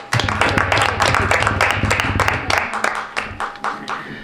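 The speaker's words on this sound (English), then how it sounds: "hand of applause for her" A village board meeting breaks into applause for a departing trustee, dense close clapping from a roomful of people that holds steady and then thins toward the end.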